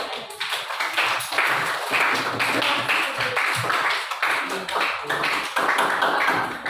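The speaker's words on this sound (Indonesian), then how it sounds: "Kasih tepuk tangan dulu untuk teman-teman." Primary school classmates clap for a group in a classroom, a dense, sustained burst of many hands, fairly loud and continuous for several seconds.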